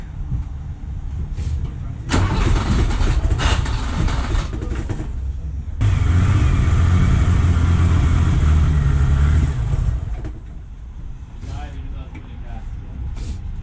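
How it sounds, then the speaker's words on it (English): A 1974 BMW 3.0 CS E9 engine cranks on its first start attempt in 15 years, with two long, loud bursts of starter churning separated by a brief pause and a quieter tail after. "go ahead and give it a crank"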